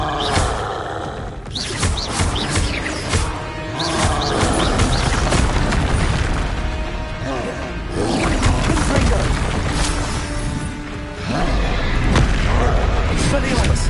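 Repeated Confringo blasting spells detonating in Hogwarts Legacy combat, heavy rolling explosions in several loud waves over fourteen seconds, mixed with roaring creature noise and spoken spell names.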